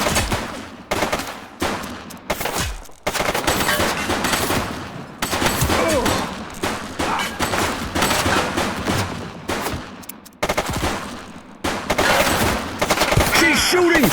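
Rapid bursts of automatic gunfire from a shooter in the police game The Precinct, loud and close, coming in repeated volleys separated by brief pauses, with radio-style voices speaking between the shots.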